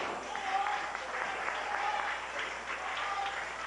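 A crowd at a televised bowling match claps and cheers in a sustained burst of applause, close and lively, with no clear speech over it.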